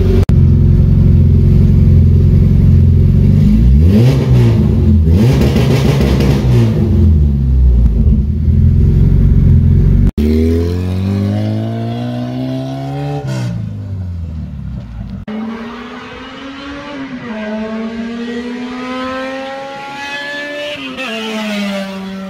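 A Honda DC5 engine with a Hybrid Racing shifter, revving loud and close against a two-step launch limiter set around 4,000 rpm, followed by rising and falling revs as the engine sweeps up and down.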